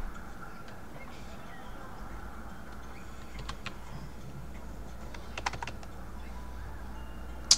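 Computer keyboard keys are pressed in a few sparse, quiet clicks, faint against a low background hum, with one sharper tap at the end.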